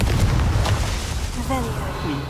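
A Confringo explosive spell cast during a Merlin trial in Hogwarts Legacy lands as a loud, booming blast that fills the moment, followed by a softer rumbling tail.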